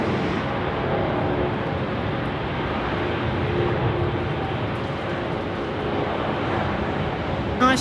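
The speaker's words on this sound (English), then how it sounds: "It is a beautiful A350." A Thai Airways Airbus A350 at Sydney Airport on a wet day, its jet engines giving a broad, steady roar that holds loud and constant throughout, heard from nearby outdoors.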